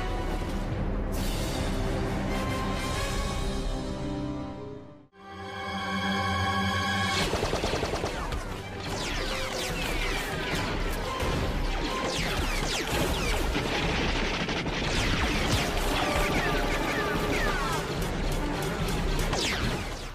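Rapid bursts of blaster fire from the animated Star Wars: Clone Wars series, loud sharp volleys with a brief gap around the middle, mixed with crashes and battle clamor.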